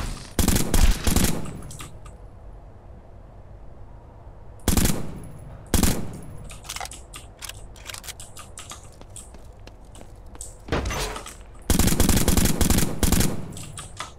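Bursts of automatic gunfire in a shooter video game ring out in several loud, rapid volleys separated by quieter stretches of single sharp shots.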